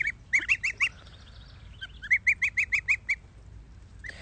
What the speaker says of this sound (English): come play with the little baby geese on the farm sometime